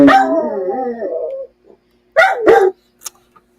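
A dog lets out a long, wavering howl up close, then gives two sharp barks after a short pause, followed by a faint yip.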